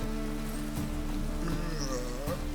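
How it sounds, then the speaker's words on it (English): Steady rain hisses and patters through the open-world fantasy game The Witcher 3: Wild Hunt, a continuous wash of drops lying beneath sustained game music with no break in the downpour. "Ah, let it rain."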